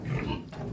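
A pig in a stock trailer gives a brief low grunt, close and fairly loud, with no voices.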